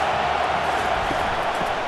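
Dense stadium crowd roar at a Texas A&M versus South Carolina college football game, a steady continuous wash of cheering voices with no breaks, loud and sustained throughout.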